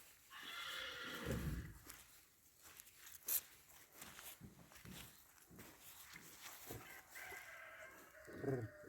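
A three-year-old mare neighs loudly twice, with hooves clopping in between and a rooster crowing faintly in the distance.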